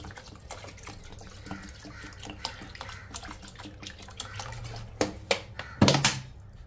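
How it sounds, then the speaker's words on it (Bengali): Rice washed under running water in a pot, a soft steady trickle with sharper splashes and swishing toward the end, close and fairly quiet. "চালটাকে ধুয়ে না, এটাকেও কমসে কম আধা ঘন্টা আপনাদের ভিজিয়ে রাখতে হবে।"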